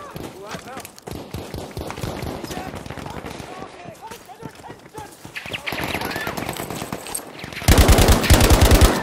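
Rapid gunfire in Battlefield V combat, bursts of shots mixed with clattering action and shouting voices, ending in a loud, dense spray of automatic fire up close.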